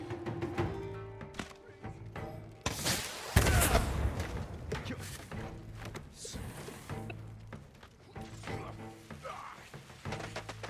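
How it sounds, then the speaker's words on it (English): Fireworks burst in the game Ghost of Tsushima as a series of thuds and booms, with one louder blast among them. Game music and ambient noise continue underneath. "be scared of the fireworks"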